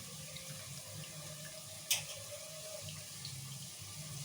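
Running water from a tap splashes steadily as broiler chicken pieces are rinsed in a sink, with a brief clatter midway; no voices.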